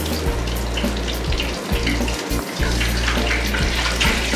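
Ice cream tempura deep-frying in hot oil on an IH cooktop, a steady loud hiss and crackle of bubbling oil throughout, close and continuous with no talk.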